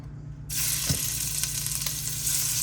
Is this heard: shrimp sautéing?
yes